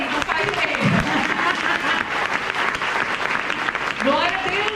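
A church congregation applauding in steady, sustained clapping with a voice speaking over it.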